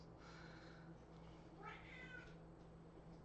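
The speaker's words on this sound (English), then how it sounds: "that's my cat that maybe you're hearing meow." An indoor house cat meows faintly, a short soft call followed by a clearer one, set against a constant low background hum without speech.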